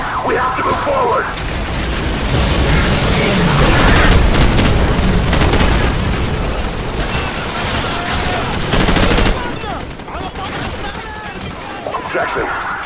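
Heavy gunfire in a Call of Duty: Modern Warfare battle with Marines, dense bursts of rifle and machine-gun fire and booms continuing throughout at close range, loud, with shouted voices mixed in.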